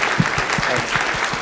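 An audience applauds at a medical talk on cancer risk in NF1, steady clapping that stays loud and close for a short burst with no voices over it.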